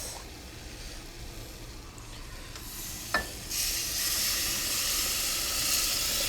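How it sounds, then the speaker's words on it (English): Broth for a mushroom pot pie is poured into a hot pan, a small splash followed by a loud, steady hiss and sizzle that keeps going, close up. "It sizzles, don't worry"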